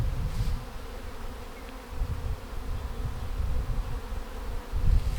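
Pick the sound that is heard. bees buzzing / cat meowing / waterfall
bees buzzing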